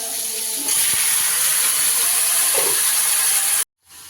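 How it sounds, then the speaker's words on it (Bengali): Cumin seeds hit hot oil for a drumstick and potato curry, setting off a loud, bright, continuous sizzle that cuts out abruptly near the end, with no talking. "এই দিকটা আবার সজনে আলুর সবজিটা বসিয়ে দিই জিরে ফোড়ন দিয়েছি"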